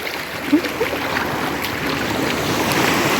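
Black Sea waves wash onto the beach at Odesa on a foggy day, a steady close rush of surf and water that swells slightly toward the end, with a couple of faint vocal sounds early on.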